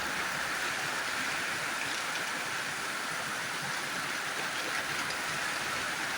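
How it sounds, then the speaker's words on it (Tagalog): A dense, steady hiss of heavy rain pours down without pause, even and unbroken from start to finish. "Malakas ang ulan guys."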